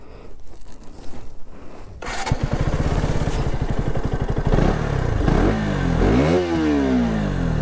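A KTM RC200 motorcycle starts after a brief shuffle and settles into a close, steady idle, then its exhaust note rises and falls through a few sharp revs.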